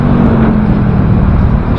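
A truck rumbles past on a road, a steady loud whir and low engine drone heard up close from a moving bicycle, with no talking.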